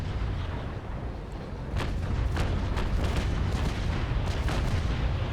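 Ship cannons firing in the naval battle game Naval Action, several booming shots in quick succession over a constant low rumble of battle and sea, loud and fairly close.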